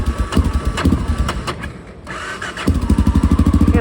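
A carbureted motorcycle engine cranks, catches and settles into a steady, rapid idle putter, loud and close with no talking.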